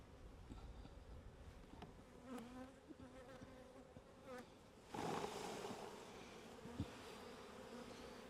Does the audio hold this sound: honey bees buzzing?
yes